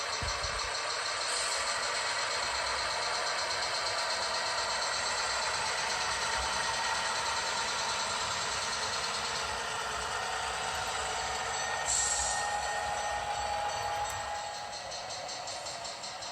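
A model train runs on the Seaboard Central layout with a continuous rumbling hum and light rattling that stays steady, then eases slightly toward the end.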